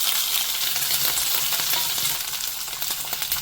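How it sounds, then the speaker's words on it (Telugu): Bottle gourd pieces and chopped green chillies fry in hot oil for a sorakaya pachadi, giving a continuous bright crackling sizzle at close range, fairly even and without voices. "ఇప్పుడు మనం సొరకాయ ముక్కలు వేసేసుకుందాం."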